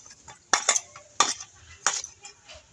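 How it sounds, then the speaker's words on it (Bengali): Dough for potato masala puri is cut into portions, giving a few sharp, close clinks and scrapes of a utensil in irregular clusters against an otherwise quiet kitchen. "এবার আমি লেচি কেটে নেব।"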